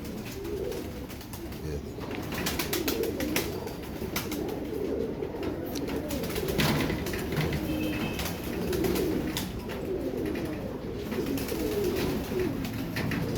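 Low, murmuring coos from several Imamdeen breed pigeons overlap steadily throughout, with a busy background of other bird sounds.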